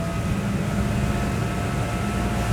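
A Rand Supreme 27 electric boat accelerates up onto the plane, a loud, steady roar of rushing water and wind with an underlying hum running continuously throughout.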